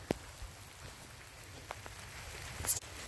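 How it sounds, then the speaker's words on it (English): Steady rain falls by the Feather River with a soft, continuous patter close by, a few sharper drops or knocks standing out, and no one speaking. "It's raining."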